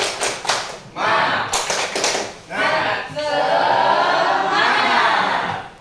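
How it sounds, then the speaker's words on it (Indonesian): A classroom of pupils joins a teacher's rhythmic group clapping chant, with bursts of claps and loud shouted voices, close and lively through most of the stretch. "Kita tepuk semangat."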